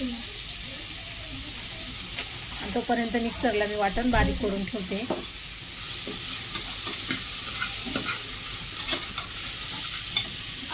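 Chickpeas being sautéed and stirred in a pan for a spicy village-style chickpea curry, with a steady sizzle, scraping stir strokes and someone speaking over the cooking.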